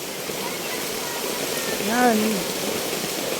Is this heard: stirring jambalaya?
no